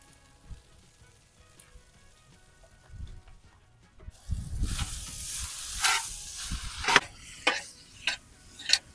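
Noodles tossed in teriyaki sauce fry on an oiled griddle, starting quiet, then breaking into a loud sizzle about halfway with repeated scraping and stirring clatters close by.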